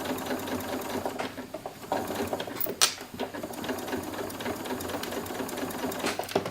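A sewing machine stitches slowly around the curves of a little blue dress, a close, steady mechanical whirr with small clicks and ticks, running continuously without speech.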